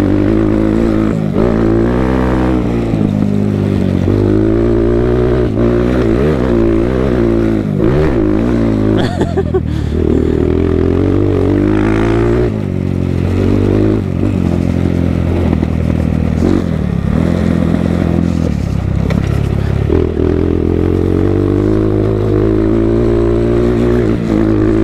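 A motorcycle riding along with loud, close engine roar, the pitch sweeping up and down as the rider downshifts through the gears, engine note dropping with each shift; no talk is heard over the engine.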